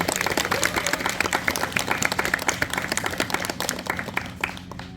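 An audience applauds two performers after they play a piece at a concert held at Jeongneung royal tomb in Seoul: dense, steady clapping from many hands, continuous and fairly loud for the full stretch.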